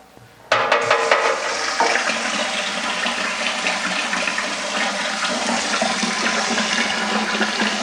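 Cold tap water gushes steadily into a 6-gallon wine fermenter, starting abruptly and running loud and continuous without pause.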